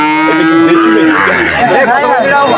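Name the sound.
Sahiwal calf mooing at cattle market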